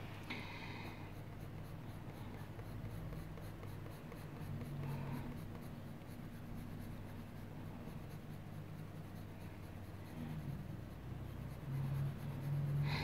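Coloured pencil lightly shading hair on paper in a colouring book, a soft, steady scratchy stroking that continues evenly and quietly throughout with no speech.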